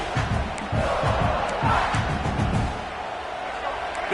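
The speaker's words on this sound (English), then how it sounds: "This crowd bringing the energy and noise early." A roaring stadium crowd from the college football video game NCAA Football 26 swells and surges, with indistinct shouts and announcer-like voices rising over the steady crowd noise.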